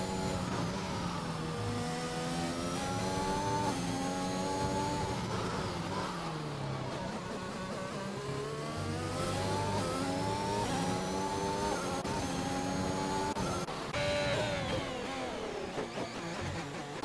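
Formula race cars roaring around a track in a racing video game, high-pitched engines rising and falling as they shift gears and accelerate, several cars overlapping in a continuous loud whine.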